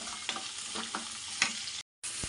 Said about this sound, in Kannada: ಆಮೇಲೆ ಈರುಳ್ಳಿ ಹಾಕೋತಾ ಇದ್ದೀನಿ. ಇದು ಅಷ್ಟೇ ಫ್ರೈ ಆಗಬೇಕು ಚೆನ್ನಾಗಿ.